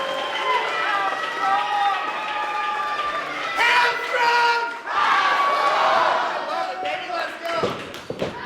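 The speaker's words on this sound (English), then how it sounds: "Listen to that crowd." Crowd at a wrestling championship event yelling and cheering loudly, a sustained roar of voices with shouts and a few thuds, swelling midway and staying strong for over eight seconds.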